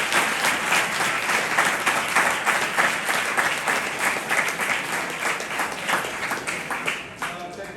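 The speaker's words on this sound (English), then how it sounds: "A big hand clap for" Sustained applause from an audience at an education and entrepreneurship event, steady dense hand clapping that stays loud throughout and tapers slightly at the end.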